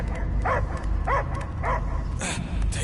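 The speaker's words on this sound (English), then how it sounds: "I hear only barking." Dog barks from the Guardians of the Galaxy video game: three clear, evenly spaced barks over a low, steady in-game ambience, with a sharper noisy burst afterward.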